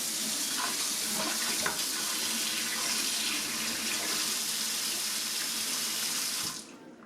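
Steady, close rush of water pouring from a kitchen faucet with pull-down sprayer into a sink, continuous and fairly loud, cutting off abruptly near the end.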